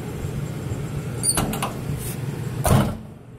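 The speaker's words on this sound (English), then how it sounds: "now you shut the door, it's much more solid, and there's no shake." Two solid door slams from a 1964 Ford Thunderbird fitted with new door seals, a lighter knock first and then a heavier thud near the end, set against quiet background noise.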